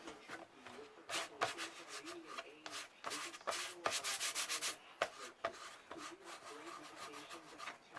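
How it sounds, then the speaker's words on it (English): Cloth rubs excess edge finish off a leather wallet in a steady back-and-forth swishing, close and soft, with some sharper scraping strokes and a faint voice in the background. "Wipe a little bit of that excess where it rolled off."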